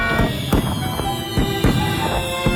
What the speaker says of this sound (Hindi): आतिशबाजी के लिए धन्यवाद